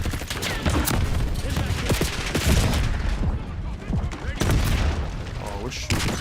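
Rockets and rapid gunfire in a ranked match of a shooter video game, with dense, loud bursts of shots and explosive booms packed together and barely a pause throughout.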